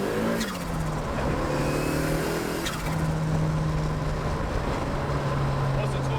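A turbocharged 330 bhp Ford Ka track car pulls hard: its engine note climbs quickly at first, then holds as a loud, close, sustained drone with a faint rattly edge.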